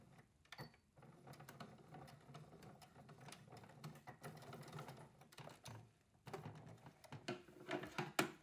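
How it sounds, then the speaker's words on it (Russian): Sewing machine running in quick bursts, stitching a backpack seam along an interfacing line, with short pauses between runs and moderately close, steady mechanical clatter. "скрепляю и проложу строчку вдоль линии"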